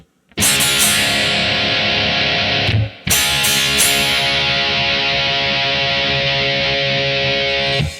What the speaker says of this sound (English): when I play the D, I'm hitting it 3 times, going down, up, and then down